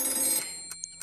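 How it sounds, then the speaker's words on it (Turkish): A cartoon telephone rings in a bright, brief trill that fades, followed by a few short, faint chirps. "Telefonun konuşması için yanına ring ring yapan başka bir arkadaş getirdin."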